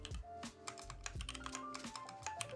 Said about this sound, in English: New keyboard, FLX Virgo.